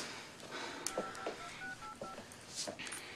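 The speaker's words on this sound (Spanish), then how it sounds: "Ya está marcando." Mobile phone keypad dialing tones, a quick series of short beeps in uneven rhythm over low room noise.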